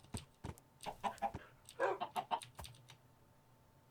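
Chickens in the video game Minecraft cluck in short, uneven bursts, with a few quick clicks between them and a denser cluster near the middle, heard close and at fairly low volume.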